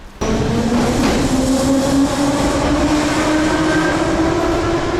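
A train pulls out of a station in Ukraine, a loud, close, continuous rumble with a rising whine as it gathers speed, starting abruptly and holding steady to the end.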